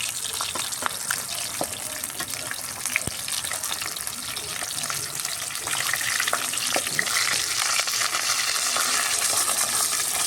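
Milkfish (bangus) from Dagupan frying in oil in a pan, a steady close sizzle and crackle with scattered pops and occasional utensil clinks, growing slightly louder toward the end.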